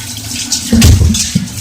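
Tap water runs for watering plants in brief, splashy gushes, with the loudest burst in the middle of the short stretch.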